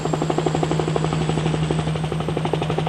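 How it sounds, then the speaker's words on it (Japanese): Large helicopter flying over the Akashi Strait while carrying a pilot rope for suspension bridge cable installation, its rotor a steady rapid thudding over a constant engine drone, loud and close throughout with no talk. "大型ヘリコプターによるパイロットロープの渡海を行うことになった"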